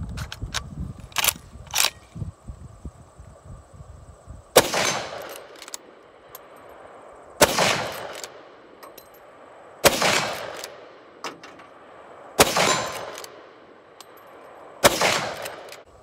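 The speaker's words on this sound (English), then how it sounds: "Put five in and shoot the steel targets over here." A Winchester Model 1886 saddle ring carbine in .45-70 Government fires at steel targets outdoors: five loud, sharp reports at roughly even intervals, each trailing into a brief ring, after a few small mechanical clicks.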